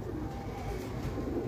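Low, muffled pigeon cooing rumbles continuously at a faint level, soft throaty calls blending together.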